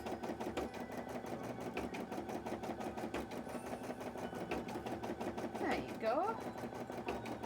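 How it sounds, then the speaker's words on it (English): A sewing machine stitches a cosplay piece in a fast, even run of mechanical clicks, fairly quiet, with a brief spoken remark near the end. "Let's get this bit sewn in."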